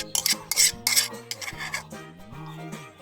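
Beaten egg mixture is worked by hand into dry ingredients in a bowl, giving close, gritty rubbing and scraping bursts over a faint tonal background.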